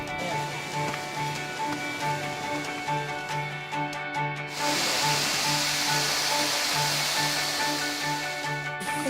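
Rushing water at Erawan Waterfall's fourth tier in Thailand forms a steady, broad hiss that grows noticeably louder and fuller midway through, with a faint tonal hum beneath.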